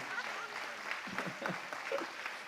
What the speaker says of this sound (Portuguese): Vamos aplaudir de novo,